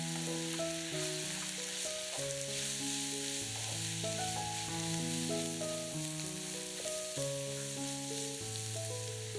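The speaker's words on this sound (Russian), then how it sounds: "Спустя 3 минуты добавляем тертую морковь. Обжариваем еще 2-3 минуты." Onion, mushrooms and grated carrot fry in a pan, giving a steady soft sizzle under continuous background music that plays throughout.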